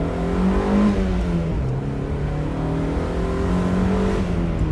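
A Mazda MX-5 Miata engine accelerates while driving, its tone rising steadily and clearly up close, with the pitch climbing, dipping at a shift, then climbing again.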